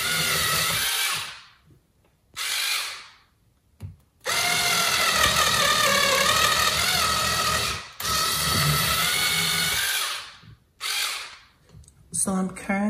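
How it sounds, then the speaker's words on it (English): A cordless power drill bores holes in a homemade wooden cherry blossom tree planter, whirring loudly in several long runs with short gaps between them and brief bursts near the end. "I'm gonna go ahead and make some holes with my husband's drill."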